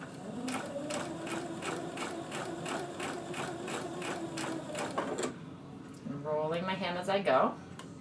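A sewing machine hems chiffon fabric on a refashioned T-shirt with a fast, even run of needle clicks for about five seconds, then stops; a person talks briefly afterward.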